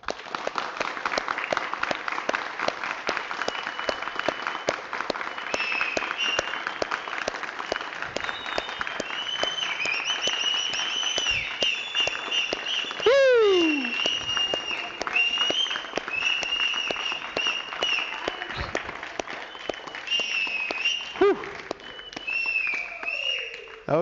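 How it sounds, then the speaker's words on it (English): Applause from an audience at a yoga session in Adi Kailasa, marking the close of a 308-asana sequence: steady, dense clapping sustained throughout, with a brief whistle-like tone sweeping through the middle. "give yourselves a round of applause"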